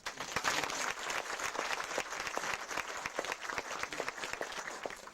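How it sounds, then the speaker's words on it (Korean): A church congregation applauds together, a steady patter of clapping that holds at a moderate level from start to end. "박수 한번 하시죠"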